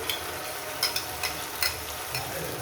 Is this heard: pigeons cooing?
no